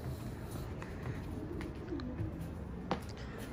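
Pigeons in a breeding loft, soft cooing and a few chirps close by over a steady background murmur, with no talking.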